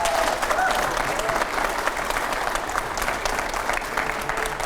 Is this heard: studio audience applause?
yes